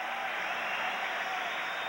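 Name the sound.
hockey crowd cheering at the Garden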